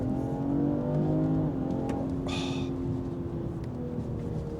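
Tuned Stage 2 BMW 545e hybrid G30 at full throttle, a rising engine note that climbs through a gear change with a brief hiss, then pulls steadily onward from inside the car.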